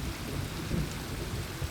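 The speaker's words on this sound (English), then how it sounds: "Hear that thunder?" Thunder rumbles low and continuous under steady rain during a storm in the Colorado Weminuche Wilderness near an old mine entrance, with no voices.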